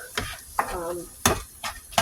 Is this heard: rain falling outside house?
no